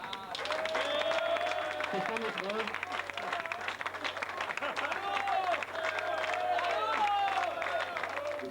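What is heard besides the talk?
audience applause for Patrick Diebold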